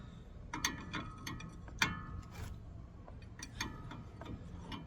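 A ratchet breaks loose a bolt on the steering rack of a 2007 GMC Sierra 5.3L, giving quiet clicking pawl ticks and a few sharper metallic clacks at close range, with no talking.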